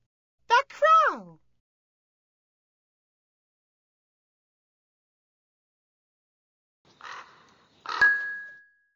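A crow caws once nearby at the start, then after a long silence a rougher burst of similar calls and noise follows, ending with a faint tone.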